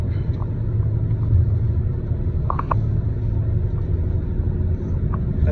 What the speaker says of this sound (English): I'm gonna give you a little bit of a driving shot